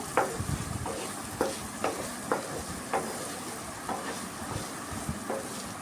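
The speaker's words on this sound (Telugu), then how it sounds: "ఇదే ఆయిల్లో ఉల్లిపాయలు కూడా వేస్తున్నాను" Sliced onions and green chillies sizzle in hot oil for a potato and egg curry, a steady low frying hiss broken by several sharp scrapes of a spoon stirring the pan.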